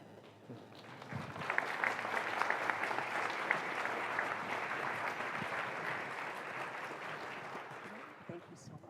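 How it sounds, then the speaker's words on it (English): A conference audience gives the keynote speaker Hill Harper a round of applause, with clapping that swells after a second and holds steady. Voices are heard beneath it and near the start. "one more round of applause, please, for Hill Harper"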